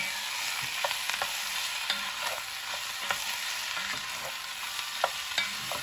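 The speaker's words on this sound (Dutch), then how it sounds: "Roer het maar even erdoor en laat een beetje meebakken." Flour-dusted beef pieces, seasoned with salt and pepper, fry in a pan while being stirred, making a steady close sizzle broken by repeated sharp scrapes and clicks of the spoon against the pan.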